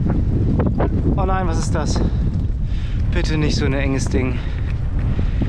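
Strong headwind buffets the microphone continuously while cycling, a steady roaring rumble throughout, with someone talking over it.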